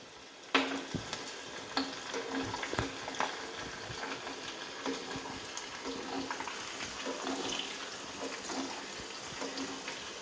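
Green chillies and dried red chillies frying in a pan of hot oil for Andhra-style buttermilk curry, giving a steady close sizzle with scattered crackling pops throughout.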